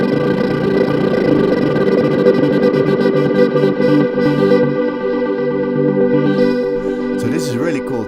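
Synthesizer arpeggio in Ableton, driven by a probability arpeggiator and a fast LFO, with stacked bright tones cycling rapidly at even loudness before a warbling, pitch-swept tail at the end.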